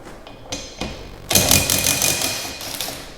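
Removing a 15 mm windshield wiper bolt on a Dodge Hellcat in a garage: a few sharp metallic clicks and knocks, then a loud, close ratcheting whir lasting over a second, with no talking.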